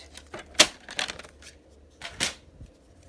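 Paper is cut on a trimmer during card-making with Flower & Field designer series paper. A few quick, sharp slicing swipes come close up, with short rustles between them, in a quiet room.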